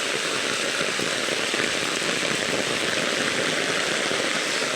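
A constant, dense downpour drums on surfaces nearby, loud and unbroken throughout.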